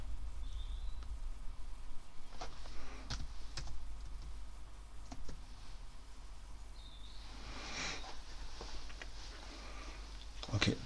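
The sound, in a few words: typing a stock ticker on a computer keyboard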